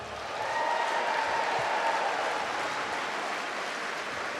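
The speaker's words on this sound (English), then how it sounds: "give a round of applause for the great class of 2019" Crowd applauding a graduating class of 2019 at an evening ceremony, a steady wash of many hands clapping from a distance, holding at an even level throughout.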